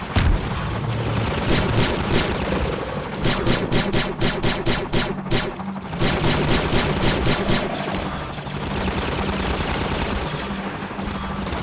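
Sustained gunfire fills a Garry's Mod Clone Wars roleplay battle, with dense rapid bursts, booming heavier shots and near-continuous rattling that pauses briefly before resuming.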